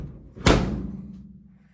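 A heavy steel door on a 1949 Ford F68 truck slams shut once, a loud close thud with a low resonant rumble fading out afterward.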